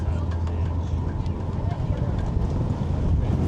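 Wind buffets the microphone outdoors at Hakone in Japan, a steady low rumbling roar that runs unbroken throughout.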